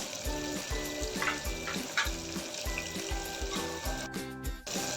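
Finely chopped tomatoes cooking in a pan for veg pulao give a steady, close sizzle and bubbling with a rhythmic low thumping underneath, continuing without pause and with no talking.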